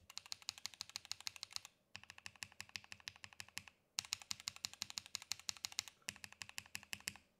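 Close, crisp typing on an Asus ROG Azoth mechanical keyboard fitted with lubed Gateron switches, rapid even keystrokes in four bursts with brief pauses between them.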